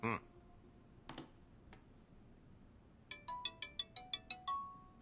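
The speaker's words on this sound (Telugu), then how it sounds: "మావయ్య ఫోన్ వస్తుంది" A mobile phone ringtone plays a quick series of bright electronic notes after a few short clicks in a quiet room, fairly faint, with no talk.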